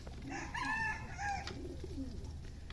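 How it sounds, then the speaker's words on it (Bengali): Racing pigeons at a pigeon farm coo and call softly in a few rounded, repeated notes, faint and slightly distant over a low background hum, with no speech. "আমার রেসার কবুতরগুলো দেখেন"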